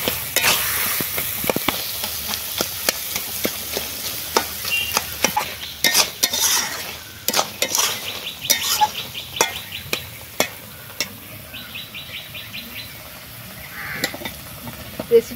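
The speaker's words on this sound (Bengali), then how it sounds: "আলুগুলো একটু ভেজে দেবো।" Potatoes fry in a pan, a steady sizzle broken by frequent sharp scrapes and taps of stirring, loud and close, with faint bird or insect chirps in the background.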